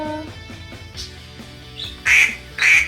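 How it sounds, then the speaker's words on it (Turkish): Two short, loud nasal quacks near the end, following a quieter stretch of faint tones and a brief squeak, from a duck in a children's farm game. "küçük bir ördek daha."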